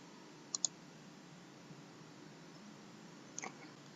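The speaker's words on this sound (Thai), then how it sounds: "หลังจากนั้นคลิกที่ save and close ครับ" Two quick computer mouse clicks near the start, followed by a faint third click, all isolated against quiet room hiss while saving and closing a category in Joomla.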